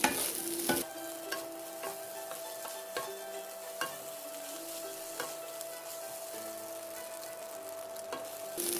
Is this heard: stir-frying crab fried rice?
yes